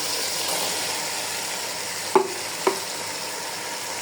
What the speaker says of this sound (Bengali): এখন 5 থেকে 6 মিনিট ভাজতে থাকবো।